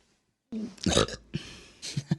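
A man's burp, loud and close, rumbling for about a second amid a burst of other vocal noise, followed by a shorter second belch a moment later.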